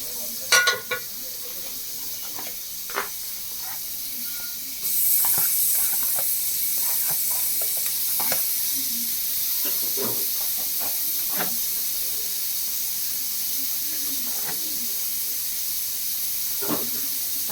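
Tomatoes sautéing in a pan after ginger-garlic paste, heard as a steady hiss and sizzle with scattered stirring scrapes and clinks, close by and moderately loud.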